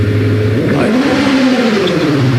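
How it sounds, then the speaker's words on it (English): A Pilbeam MP97 hillclimb race car accelerating at a British Championship hillclimb at Shelsley Walsh, its loud engine note rising steadily through the gears as it passes close by. "here comes Sandra in the Pilbeam MP97"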